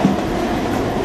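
Commuter train running in Mumbai, a loud, close, continuous rumble of the rolling carriages, heard alone in a single second.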